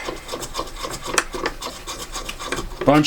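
A drill-powered trimmer cuts down cartridge brass cases, giving a continuous gritty rasping and scraping at close range, steady with small pulses and a louder burst at the end.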